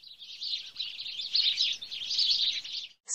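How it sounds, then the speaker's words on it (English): A sparrow chirps in a rapid, continuous high twittering for about three seconds, close and clear with no other sounds. "sparrow"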